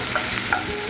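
A brief, close sizzle of cut potatoes frying in oil in a pan, with a couple of stirring scrapes during a raw banana kofta recipe.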